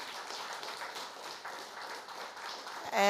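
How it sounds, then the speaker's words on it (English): Audience at a town hall meeting applauds, a steady even patter of clapping throughout, ending in a brief louder burst. "y'all give a round of applause for those who are watching us via live stream"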